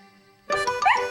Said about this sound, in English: Said Snuffy, barking happily and wagging her tail.